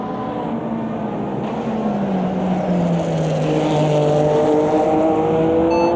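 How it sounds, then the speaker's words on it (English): A race car in Automobilista 2 slides through a left-hand corner, its engine tone sagging and then rising again over a loud, steady rush of tire and wind noise. "we feel the car sliding around that left-hander"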